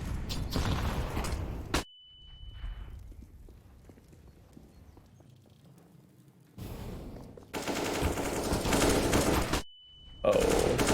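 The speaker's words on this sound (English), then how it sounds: "that flashbang was very nice from him" A flashbang grenade bursts in a video game: two loud, harsh blasts of broadband noise, each followed by a thin, steady high ringing tone, with quieter rumbling and clatter between them.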